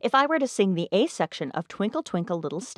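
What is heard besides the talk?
None of the usual background noises is heard.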